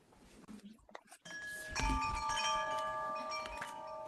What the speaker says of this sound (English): Ring the chime.